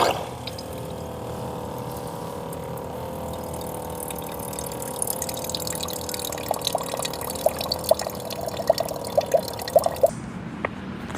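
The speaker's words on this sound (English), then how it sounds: "let me get the kettle and get some water and get our coffee boiling." Water runs steadily into a small electric kettle at a campsite, a soft continuous pouring with faint drips and clinks building toward the end, no one speaking.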